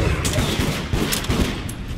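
Dense rapid gunfire in the multiplayer video game Deceit, a continuous loud burst of shots with rattling bursts throughout, fairly close and steady for the whole stretch.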